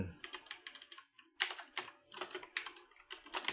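Fingers type on a computer keyboard in quick, close, irregular bursts of light clicks, with a short pause near the start and no talking.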